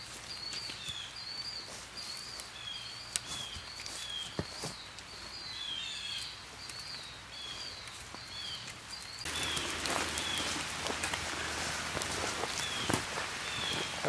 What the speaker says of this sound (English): looks like the rain is starting to pick up a little bit